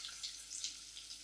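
Chicken broth being poured from a carton into a pot, a steady liquid splash with soft gurgling surges, close and moderately loud, no talking over it.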